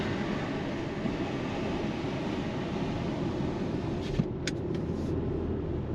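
Steady road and engine drone inside a 2024 Dodge Hornet R/T e-AWD climbing a mountain road in the Rocky Mountains, constant and moderately loud with a couple of brief clicks near the end.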